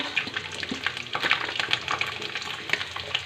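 Garlic fries with cumin in a pan for a peanut chutney, producing a continuous crackling sizzle with dense irregular pops and spatters, close and unbroken by talk.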